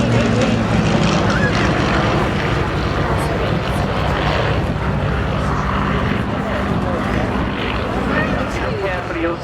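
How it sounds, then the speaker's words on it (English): A Spitfire's Rolls-Royce Merlin engine drones steadily at an air show, a smooth, continuous propeller roar that holds throughout with little change in loudness. "beautiful purr of the Merlin engine."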